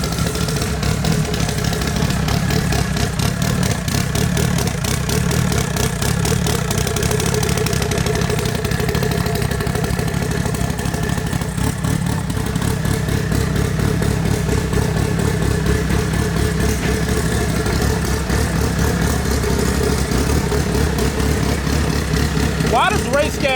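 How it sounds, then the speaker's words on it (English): A Dodge Neon SRT4 sits idling after a cold start, its four-cylinder engine running with a steady, slightly uneven clattery drone close by for over twenty seconds, while a person talks over it at times. "doing a cold start and a pull in my Neon so I can record it"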